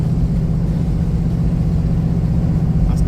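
A 1977 Studebaker Avanti with a small-block Chevy V8 runs hard under throttle, a loud, close, steady low engine drone and rumble held throughout with no clear rise or fall.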